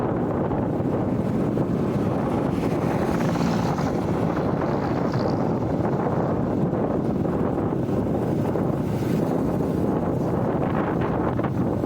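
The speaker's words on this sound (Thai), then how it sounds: "ลมแรงยังอยู่ริมทะเลนะครับ ลมแรงมาก ๆ เลย" Strong wind by the Mekong riverside near Vientiane roars steadily across the microphone, a constant buffeting rumble with no voices throughout.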